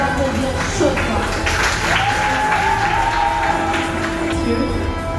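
Steady, sustained applause from a large audience at a certificate ceremony, continuous and fairly loud throughout, with a faint murmur of voices underneath.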